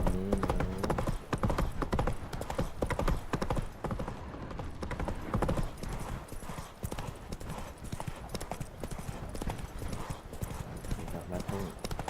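Roach, a horse in the video game Witcher 3, gallops in quick, rhythmic clip-clop hoofbeats. A brief whinny is heard, and a voice talks over the hooves.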